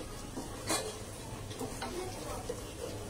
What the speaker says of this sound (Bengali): এই মশলাটাকে একটু কষিয়ে নিব